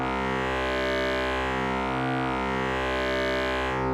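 A synthesizer holds a sustained perfect fifth through heavy distortion, a dense buzzing drone with slow phasing swells in its harmonics.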